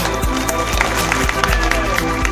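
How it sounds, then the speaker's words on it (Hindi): An audience at a tricolour flag inauguration event claps in a rhythmic, steady beat, loud and close, with crowd noise and talking mixed in. "ताली में कम नहीं, तो ताली जोर से बजाइए"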